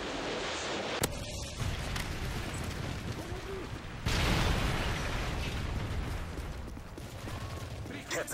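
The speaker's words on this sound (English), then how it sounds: "Friendly Predator missile inbound." Predator missile strikes in Modern Warfare 3 on the Lockdown team deathmatch map, a sharp crack then a loud, deep blast with a long rumbling tail, set within continuous game battle noise.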